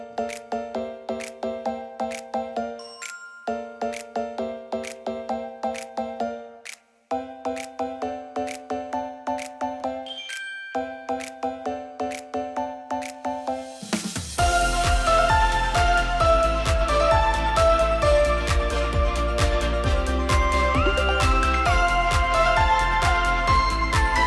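An Orchestrion roll from Final Fantasy XIV plays a light, bell-like melodic tune in repeating phrases, then swells into a fuller, denser arrangement with deep bass halfway through, without speech.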